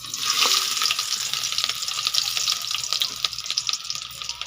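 Fish head soup with lemongrass cooking in a pot, a steady close bubbling, sizzling hiss with faint stirring and watery clinks throughout, no speech.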